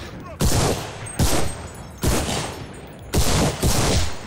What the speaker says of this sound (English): Oh, shit, I'm getting shot in the back.